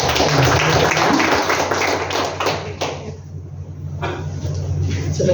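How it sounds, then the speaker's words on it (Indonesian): Congregation clapping at a church worship service, a dense, steady wash of applause filling most of the clip, thinning briefly near the middle before picking up again, with a low hum underneath. "Mari kita sambut dengan tepuk tangan."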